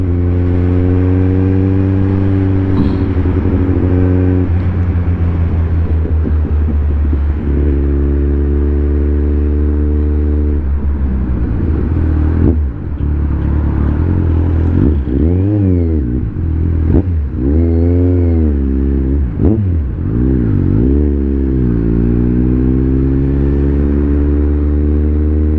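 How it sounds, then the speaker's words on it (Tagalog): Motorcycle riding slowly through heavy traffic on the Skyway, its mid-pitched engine droning steadily throughout, with repeated rising and falling revs as it speeds up and slows, and other vehicles passing close by. "Skyway traffic."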